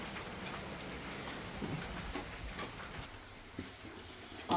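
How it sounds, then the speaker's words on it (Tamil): Rain falling steadily in Thiruvananthapuram, a soft continuous patter with scattered louder drops, fairly faint and alone without voices. "இங்கே நல்ல மழை."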